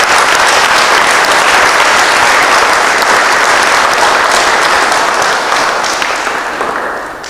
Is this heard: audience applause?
yes